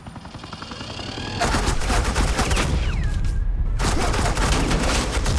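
Loud, continuous suppressing gunfire from a firefight in the video game Batman: The Enemy Within, a dense roar of rapid shots that briefly thins before surging again, with no talk.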